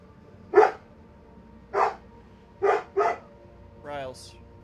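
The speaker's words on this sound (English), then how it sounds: "go pet the dog so she shuts up" A dog barks four times in separate sharp bursts, the last two close together, followed by a higher whine or yelp, fairly close in a quiet indoor room.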